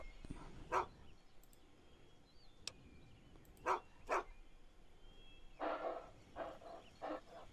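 A dog in Fallout 3 gives a few short, fairly faint barks spaced apart, with a quick pair in the middle and a cluster near the end, over a quiet game background.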